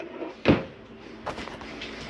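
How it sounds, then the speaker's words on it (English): A drawer in a Jayfeather Micro 166FBS camper shuts with a firm close-range thump, followed about a second later by a softer knock, in an otherwise quiet interior. "Put your remote in your drawer."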